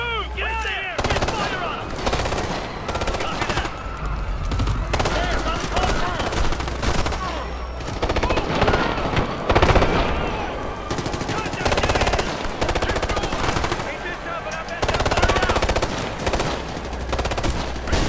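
Machine gun fire in the Ghost Recon Future Soldier shooter, long loud sustained bursts of automatic gunfire with heavy low booms, nearly continuous throughout amid battle chaos and shouting voices.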